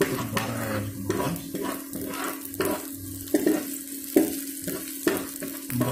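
Ginger pieces fry in a pan over a low flame, giving a steady close sizzle broken by intermittent scraping and stirring knocks, with no voices.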